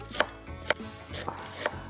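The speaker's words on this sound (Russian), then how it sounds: "Я ее чуть-чуть все-таки подшинкую, порежу" A knife chops sauerkraut on a board in four distinct, sharp knocks spaced about half a second apart, close and clear against a quiet kitchen background.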